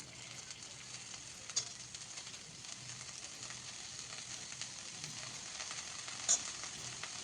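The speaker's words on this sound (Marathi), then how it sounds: "आणि आता भाजी घालून घ्यायची आहे." Chickpea leaves for a Maharashtrian harbharyachi bhaji hit a hot pan and sizzle steadily for several seconds, a soft continuous frying hiss with faint stirring clicks and no talking.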